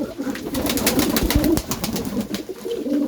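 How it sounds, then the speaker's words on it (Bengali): Pigeons, including racers, coo inside a pigeon house with soft, low, repeated calls close by, against faint background rustling. "কবুতরের ঘরে ঢুকলাম।"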